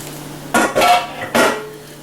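Shrimp get stirred into a pot of shrimp étouffée: two or three sharp, close scrapes and clanks of a utensil against the pot, with quiet between them and no talking.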